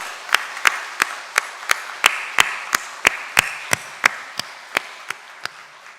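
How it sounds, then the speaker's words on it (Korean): A church congregation at a Sunday service at Jeongneung Methodist Church fills the room with steady applause, while sharp, evenly spaced individual claps cut through in a regular rhythm for about six seconds. "따뜻한 박수로 모두를 환영하겠습니다"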